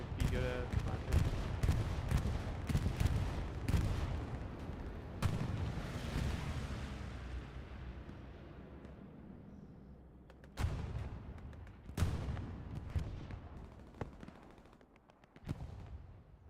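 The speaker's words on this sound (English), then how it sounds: "Bombing run coming in." A bombing run strikes in a video game tournament match, a burst of rapid gunfire-like impacts and booming explosions decaying into a long rumble, followed by a few sharper distant blasts, with commentary voices underneath.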